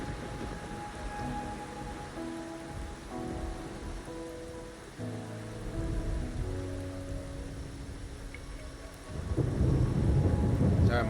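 Steady rain with low thunder rumbles in the game Wuthering Waves, a constant wash under tonal music that swells louder near the end.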